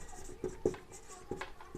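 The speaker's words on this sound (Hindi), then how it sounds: "चलिए और लिख लेते हैं, फिर जॉन मार्शल महोदय को लिखेंगे" Pen writing on a board or paper during a history lesson, a few short scratchy strokes in quick irregular taps, close and fairly quiet.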